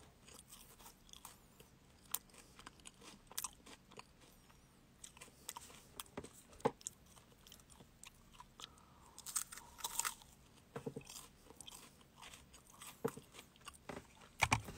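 Someone eats food during a live broadcast, producing close, quiet crunches and bites scattered irregularly over a low background, with sharper clusters of crunching toward the middle and end.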